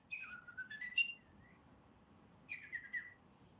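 A toy bird lets out two short bursts of high, warbling, whistle-like chirps, close and fairly faint, with a quiet pause between them over a soft background hiss.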